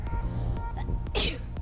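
A single sharp sneeze bursts out close by about two-thirds of the way through, over a low steady outdoor background hum at a state park in Ormond Beach.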